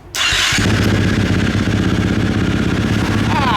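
A KTM 350 XC-F dirt bike engine, freshly reassembled with a new cam chain tensioner, fires up after a brief starter whir and settles into a steady, loud, close single-cylinder idle that runs to the end.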